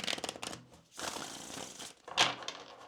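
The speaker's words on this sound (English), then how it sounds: "we'll get a shuffle in here" Quick crisp riffling of tarot cards being shuffled, in three short bursts close to the microphone, fairly quiet.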